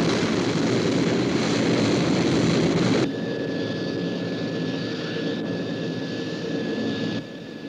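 The Sky 1 interceptor aircraft from the 1980 science-fiction television series flies past as a loud, steady jet-like roar that drops in intensity partway through and continues alone.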